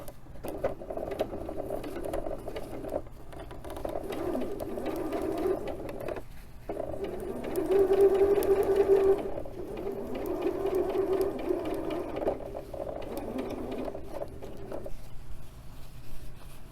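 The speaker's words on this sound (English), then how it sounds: "And let's sew this last seam." A sewing machine stitches the last seam of a Shibori Vases quilt block, a close steady mechanical whir running in several stretches with brief pauses between them, no voice.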